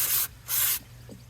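Aerosol cleaner hisses into the carburetor of a 2006 Mercury 15 HP outboard in two short close bursts, a sharp broadband spray separated by a brief pause.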